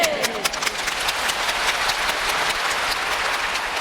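A large church congregation at a Yoido Full Gospel Church sermon applauds in a dense, steady wash of many hands clapping, loud and sustained throughout, with no clear speech over it.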